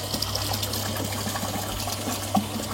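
Water pump spraying a fine rain-like mist in a chili fertigation system, a steady continuous hiss and rush of water with a constant low pump hum underneath, close and even throughout.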